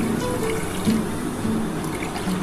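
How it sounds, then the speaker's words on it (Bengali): Water runs into a wok set on the stove for making rasgulla syrup, a steady close pour with a soft splashing, gurgling texture and no talk. "কড়ার মধ্যে আমি জল দিয়ে দিচ্ছি"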